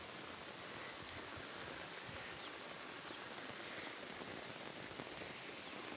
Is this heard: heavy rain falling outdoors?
yes